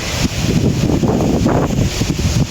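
Heavy wind blasts into the microphone, a loud, rough rumble with gusty surges throughout and no speech.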